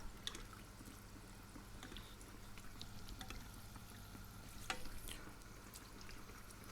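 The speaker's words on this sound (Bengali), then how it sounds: "আমরা এটাকে ফ্রাই করবো এভাবে কন্টিনিউ যতক্ষণ পর্যন্ত এটা একটি লালটি একটা কালার না আসছে" Butter buns frying in hot oil at lowered heat, a steady, soft sizzle and crackle that runs throughout, with an occasional faint clink or bubble pop.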